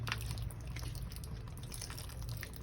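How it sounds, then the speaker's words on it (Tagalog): Vinegar poured onto shrimp paste for sautéed bagoong alamang, a steady close liquid trickle and drip running through the whole stretch with no talk. "Ayan, buhusan natin siya ng suka."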